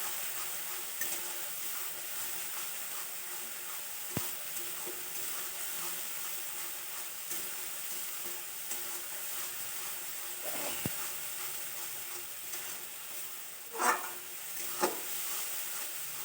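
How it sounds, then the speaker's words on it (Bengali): A few cloves of garlic fry in a pan for a crab dish, giving a continuous soft sizzle with occasional stirring scrapes and clinks, heard alone without talk. "রসুনটা আগে কিছুক্ষণ একটু ভালো করে কষিয়ে নেবো"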